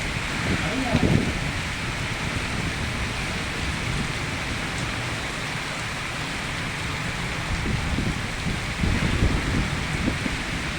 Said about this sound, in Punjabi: ਮੀਂਹ ਪੂਰੇ ਜ਼ੋਰ ਦਾ ਪੈਣ ਲੱਗਾ